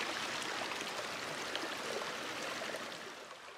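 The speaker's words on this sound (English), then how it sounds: "here's a little water stream. Looks really good, really tranquil. Hear the water running." A small rainforest stream runs steadily over rocks near Queenstown, a continuous close broadband rush of flowing water with no talk.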